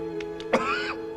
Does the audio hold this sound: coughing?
yes